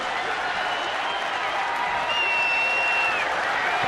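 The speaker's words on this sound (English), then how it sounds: "Oriole fans applauding for the strikeout" Orioles fans at the ballpark applaud a strikeout, a continuous wash of distant crowd clapping and cheering, with a broadcaster talking faintly over it.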